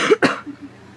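A person with bad allergies gives two quick, close coughs in a row, followed by a short breathy rasp, with no talk.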